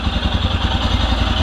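A brand-new blazing black Royal Enfield Scram 411 motorcycle on its first run, its engine idling close by with a steady, loud, rhythmic thumping throb and mechanical clatter throughout.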